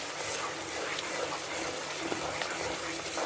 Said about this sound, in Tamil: மிக்சியில் கொஞ்சமாக தண்ணி விடுவோம்